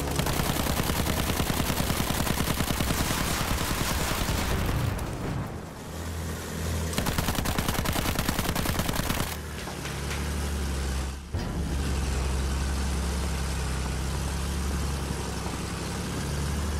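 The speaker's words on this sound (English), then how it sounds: "I'm shooting at our teammates." Sustained automatic gunfire from a Battlefield 1 match, loud and continuous with brief pauses, mixed with the hum of engines and vehicle noise throughout.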